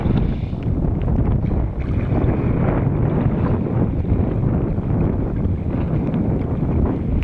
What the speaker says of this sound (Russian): Ветер дует с берега.